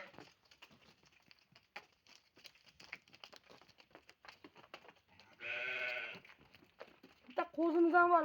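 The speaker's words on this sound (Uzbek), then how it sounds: "Qo'ylar qaranglar akalar." Sheep at a livestock pen in Namangan bleat, one long, loud wavering bleat mid-clip and another starting near the end, over quiet rustling and faint scattered noises.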